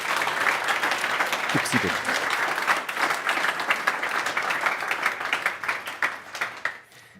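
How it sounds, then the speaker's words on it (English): Audience applause for speakers at a last-mile delivery meetup: sustained dense clapping from a room of attendees, fairly close and steady, fading near the end, with a brief voice speaking over it. "Please give them a warm applause and thank you."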